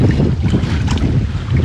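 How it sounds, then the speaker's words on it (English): Strong wind gusts across an open lake during a storm, roaring loudly and buffeting the microphone in a continuous, near rush with no talking. "Oh, it's so windy."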